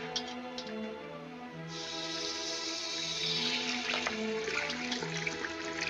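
Water running from a tap over a hand, a steady hiss and splash that grows fuller partway through and runs continuously under a faint musical score.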